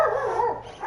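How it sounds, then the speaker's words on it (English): Dogs barking in the survival video game ARK: Scorched Earth, a short burst of agitated barks and yips sounding close and fairly loud, with no talk over them. "I guess someone's here and the dogs are freaking out."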